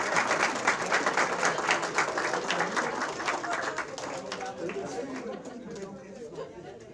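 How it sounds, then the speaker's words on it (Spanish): Audience in a small hall applauding the winner of a book at a literary discussion gathering, a burst of hand clapping that starts strong and gradually thins out, mixed with murmuring chatter from the room. "un aplauso para el ganador del libro"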